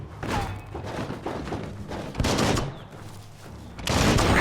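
Gunfire and heavy blasts in the Biomutant video game as an explosive barrel is shot and bursts at a gate, loud thudding impacts in several sharp waves across the clip.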